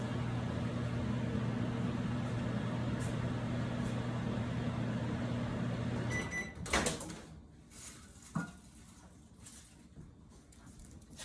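A microwave oven's steady hum runs for several seconds, then stops, followed by a clunk of the door opening and a few handling knocks.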